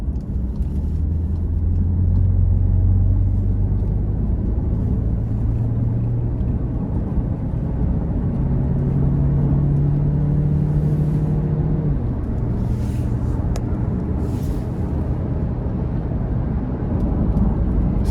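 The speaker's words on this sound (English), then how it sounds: "Still gonna put our foot into it getting on the interstate here." A 2018 Volkswagen Tiguan SEL accelerates onto an interstate, heard from inside as a steady low engine drone with rising tonal sweeps and road rumble, no talk.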